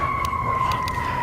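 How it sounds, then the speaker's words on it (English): An emergency siren blares in a steady, loud, continuous tone with a few faint clicks over it and no voices. "siren going off, blaring"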